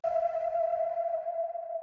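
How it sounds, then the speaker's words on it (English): Distorted Cashmere reverb synth pluck, EQ'd and overdriven so the reverb tail gains a gritty low crackle beneath a steady sustained tone, heard alone and fairly loud. "which gives it this like little crackle, which I like a lot, which comes from distorting the reverb"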